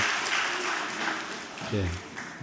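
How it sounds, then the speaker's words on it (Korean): A church congregation gives applause of welcome to a visiting missionary's children, a steady wash of clapping that fades gradually, with a voice briefly breaking in near the end. "인사할 때 여러분 우레와 같은 박수"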